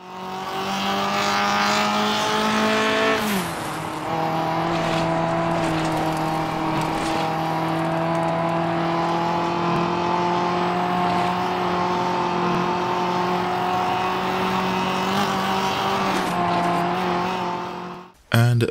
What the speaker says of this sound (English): So this is Race Room Racing Experience.